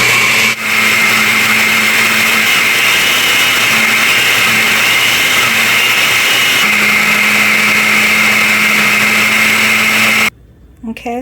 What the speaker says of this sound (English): it will get too hard for my cheapy Walmart blender to blend